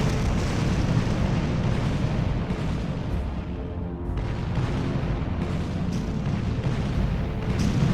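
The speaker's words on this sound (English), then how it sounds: "5th Battalion marches on as they come under French artillery barrages." French artillery barrage pounding a marching battalion in a Napoleonic battle at Quatre Bras: a dense, continuous rumble of booming explosions, loud and sustained with no clear pauses and no voices.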